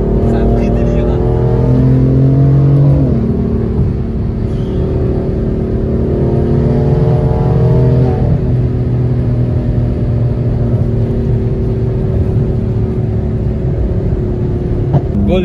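An 850-horsepower BMW M4 accelerates hard, its engine note climbing through a couple of gear pulls, loud and close from start to finish.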